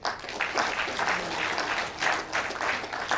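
Audience members at a technology faculty conference clap for the professors, a brief, fairly even round of applause from a room of people, swelling slightly in waves.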